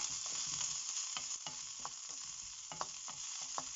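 Green chillies and cumin seeds frying in hot oil for a tomato coriander chutney, a soft hiss with irregular small pops and crackles, faint and close, no talk.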